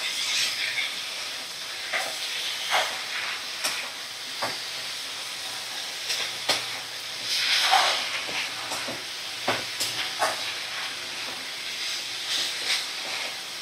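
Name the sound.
stirring dried prawns with spices in a hot pan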